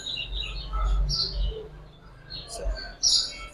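Young Katamoni Panki pigeon chicks give faint, scattered high chirps and peeps over low handling noise and background murmur.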